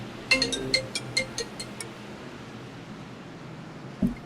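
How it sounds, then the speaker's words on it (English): A phone ringtone for an incoming call sounds during a North Carolina Speedway truck race in a sim racing series, a quick run of about eight bright, evenly spaced electronic tones that then stop, with a faint thump near the end. "I have a phone call and I'm currently busy."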